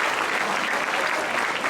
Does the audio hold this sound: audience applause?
yes